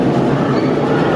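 The Hogwarts Express ride at Universal gives a loud, steady rumble of a moving train carriage, running continuously with no clear clicks or pauses.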